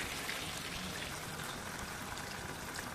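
Tamarind pulp water is poured into a simmering fish curry, making a steady wet rush and trickle that lasts the full three seconds. It sounds close, fairly soft and constant, with no voices.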